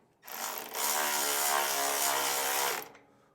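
A power driver with a 3/8 socket runs bolts down on a mower flap mount for a Wright Stander ZK 52-inch, giving a steady close whirring ratchet buzz for about two seconds, alone.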